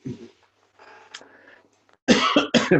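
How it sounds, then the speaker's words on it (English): A person coughs into a microphone: a few harsh, close, loud coughs in quick succession near the end, after some quieter throat noises. "I probably should have muted myself when I coughed into the mic"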